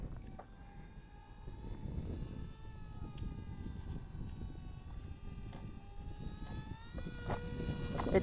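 A ZOHD Dart FPV RC airplane's electric motor whines steadily at reduced throttle, a thin buzzing drone that wavers in pitch over constant background noise, with no talking.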